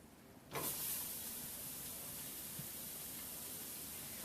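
Onions dropped into a hot pan of brown drippings for cube steak gravy, giving a sudden burst of steady sizzling hiss that holds loud and even to the end.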